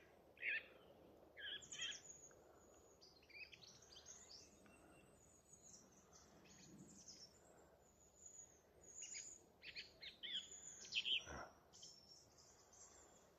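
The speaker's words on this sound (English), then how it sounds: "I love getting recordings of different bird song. Especially the thrush." Thrush song from a local nature patch in East Tilbury, a series of short bright phrases with pauses, faint and distant over a quiet outdoor background.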